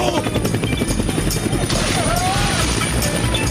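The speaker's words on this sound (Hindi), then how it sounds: "हेलीकॉप्टर उनके कंट्रोल में नहीं है।" A cartoon helicopter spins out of control with a loud, choppy rotor clatter and crashing effects, while animated voices shout over the racket.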